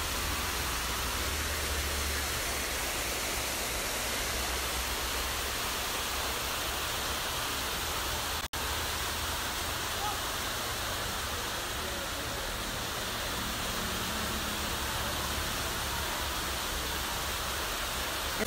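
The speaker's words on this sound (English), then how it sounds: "I'm at Little Duns River right now" A river waterfall at Little Dunn's River, Jamaica, roars in a loud, continuous rush of falling water that never lets up, broken only by a single brief click midway.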